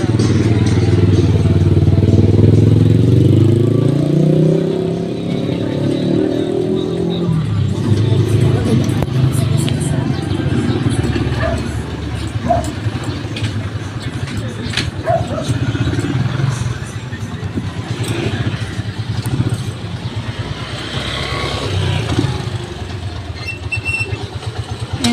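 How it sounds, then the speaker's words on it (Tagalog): Motorcycle engine running while riding, a bike that keeps acting up, giving a steady loud drone with rumbling low end and some clattering, strongest at the start and continuing throughout. "Hinto ang aming motor."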